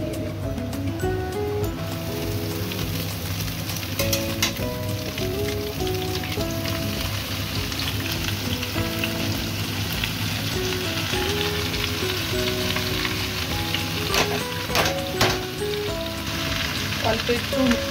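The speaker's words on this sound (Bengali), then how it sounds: "এবার আমি দেব শাকগুলো দিয়ে দেব।" Red amaranth greens fry in a pan with onion and garlic, a loud steady sizzle with stirring scrapes and a few sharper crackles, heard alone without talk.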